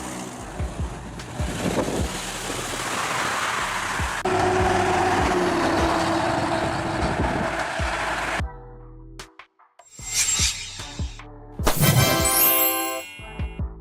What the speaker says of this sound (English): Water tanker fire truck, a water-carrying truck that supports other fire engines when there's no nearby water supply